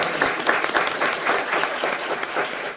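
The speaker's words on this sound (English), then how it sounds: "Yes, clap for her." A short burst of audience clapping at a school board meeting, with individual claps close and distinct, moderately loud and ending abruptly.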